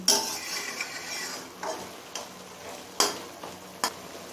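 Loti and chicken curry with added water is stirred in a pan, with a low simmering sizzle underneath and several distinct metallic scrapes and knocks of a utensil spaced irregularly.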